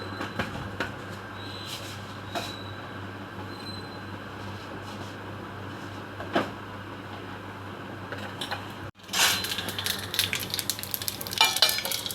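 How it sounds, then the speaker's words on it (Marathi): Mustard seeds tempering in about two tablespoons of hot cooking oil for an okra dish, a dense continuous sizzle with scattered pops that briefly drops out, then returns louder and sharper. "आता मोहरी घालून फोडणी दिले."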